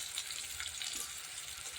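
Capsicum pieces frying in a pan of vegetable curry with cabbage and carrot, giving a steady soft hiss and sizzle that carries on without a break and without any talk.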